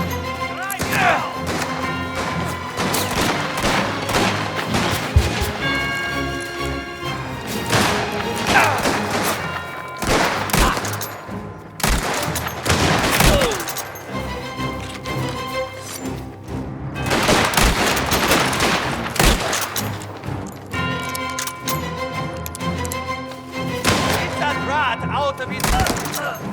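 A sustained gunfire shootout in the Mafia: The Old Country video game: dense, continuous bursts of shots and impacts layered with tense music and shouted voices throughout.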